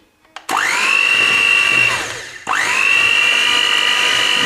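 An electric whisk churns chocolate cake batter with cocoa powder in a kitchen, giving a loud steady whine that starts, dies away, then kicks in again for a second run.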